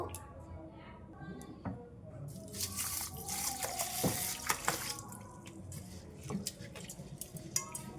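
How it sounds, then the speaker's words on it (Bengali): Sago pearls are washed by hand in a bowl of water, with splashing, sloshing and dripping that grows louder in the middle and trails off into scattered drips. "এবারে সাবুটা আমি খুব ভালো করে ধুয়ে নেব"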